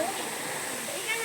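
Continuous rushing of Pinsal Falls, a waterfall with low flow, a steady near hiss of falling water filling the whole moment, with people talking nearby.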